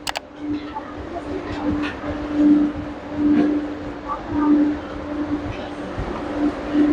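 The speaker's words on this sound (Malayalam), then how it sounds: "ഇപ്പോൾ നമ്മുടെ വാട്ടർ മെട്രോ വന്നിട്ടുണ്ട്" A Kochi Water Metro ferry pulls in at Eloor station, its engine giving a steady low drone with swelling surges over about seven seconds, while people talk nearby.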